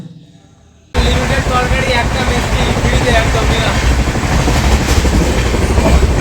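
A train rumbles loudly and steadily on the tracks after a sudden onset, with rattling carriage noise and a faint rhythmic clatter throughout.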